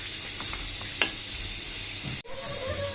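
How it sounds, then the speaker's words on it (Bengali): Beef and cubed onions fry in a pan with a steady, close sizzle and hiss, broken by a sharp clink of a utensil and a brief stirring disturbance, with no speech. "এবার এটাকে আমি আরো 5 মিনিট ভাজবো।"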